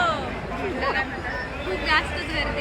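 Crowd chatter in a busy waiting area at Hotel Jagdamba, a thali restaurant near Pune, a steady babble of many overlapping voices close by, with louder nearby speech rising out of it.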